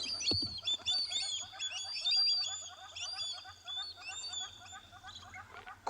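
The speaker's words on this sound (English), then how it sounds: "you hear all these other birds start to make noise" Small birds chirp and twitter in a lively, overlapping chorus of repeated high calls as a young gymnogene flies off at sunrise on safari, with a low hum beneath.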